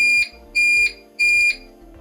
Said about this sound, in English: Yep, there's your beep, and that was actually quite loud.